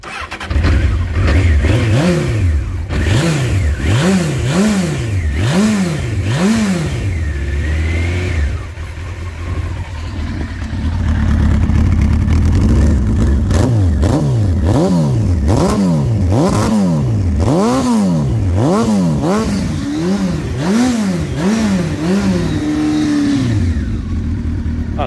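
A motorcycle engine starts and revs loudly in repeated rising-and-falling bursts, with a brief lull near the middle before the revving resumes, close and continuous throughout.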